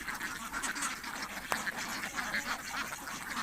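Ducks quacking in a busy, continuous chorus outdoors at a farm in winter, with a single sharp click partway through.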